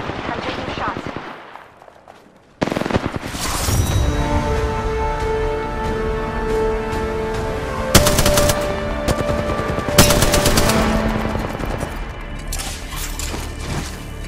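Sustained automatic weapon fire in the battle royale shooter Apex Legends, loud rapid bursts with sharp louder shots punctuating the barrage after a brief quiet stretch, with a voice speaking briefly.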